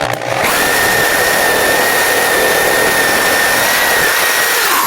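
A power drill bores into a shower stall floor, a loud close steady whine that starts after a brief moment and runs continuously to the end.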